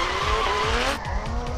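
A big-engined drift car slides with sustained tire squeal over pulsing engine revs, loud and near, the squeal cutting off abruptly near the end.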